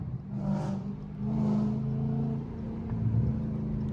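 Dodge Scat Pack and Hellcat cars revving as they drive through a neighborhood, low engine rumble swelling in two throttle surges before settling into a steady drone, heard from inside a car with no talk.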